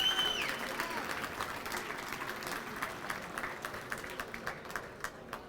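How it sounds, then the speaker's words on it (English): An audience applauds at a formal fundraising dinner in Washington, D.C., the steady clapping of a room full of guests fading gradually as it goes on. "Let's give him a round of applause just for that piece of art."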